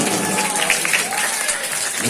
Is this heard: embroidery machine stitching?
no